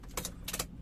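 Car keys with an immobilizer fob for a Chevrolet Trax LTZ Turbo jangle close up in two quick bursts of bright metallic clinking, with a faint low hum in the background.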